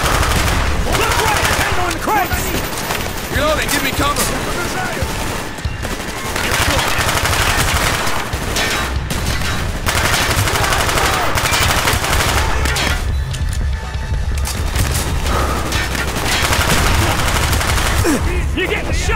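Dense, loud Call of Duty Black Ops gunfire with sustained machine-gun bursts and overlapping shots nearly nonstop, with a brief lull midway and shouting voices under the battle.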